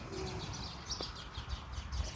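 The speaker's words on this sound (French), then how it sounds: "J'espère que vous entendez les oiseaux." Birds chirp and call outdoors, several short high notes repeating at a moderate distance over a faint background hum, with no speech.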